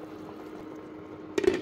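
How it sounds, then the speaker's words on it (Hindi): Water coming to a boil in a cooking pot for chicken pulao, a soft steady bubbling hiss that swells briefly louder near the end, with no talk. "ये देखो पानी उबला है"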